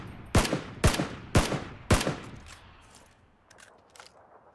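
Four loud, evenly spaced gunshots ring out in the Battlegrounds video game, each with a sharp crack and a decaying tail, followed by fainter, more distant shots.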